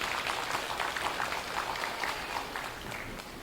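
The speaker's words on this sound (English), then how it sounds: "Let's give her a hand clap." Audience clapping for Sister Henderson at a church community convention, a steady mid-distance wash of many hands, moderately loud and fading slightly toward the end.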